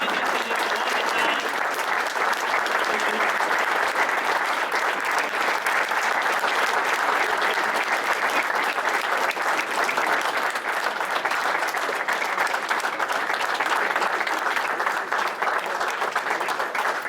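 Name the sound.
audience applause at end of trading competition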